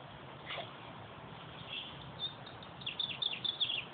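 Faint, distant bird chirps over a steady outdoor hiss: a few thin tweets early on, then a quick run of high chirps toward the end, with no voices.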